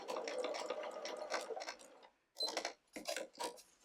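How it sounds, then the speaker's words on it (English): A sewing machine stitches quilt binding up to a corner, with a close, fast, even whir of needle strokes that stops, then short bursts start again after a pause. "I like to sew to the corner because that kind of sews in part of your miter"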